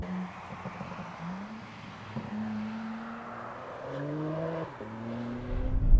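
A BMW M4 G82 engine accelerates at moderate volume, its tone rising through the gears with audible upshifts, then swelling louder at the end.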